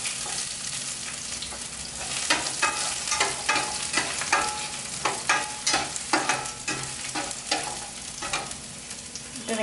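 Whole spices, ginger and garlic frying in a pan for paneer butter masala, a steady close sizzle broken by repeated scraping stirs of a spoon against the pan in an uneven rhythm.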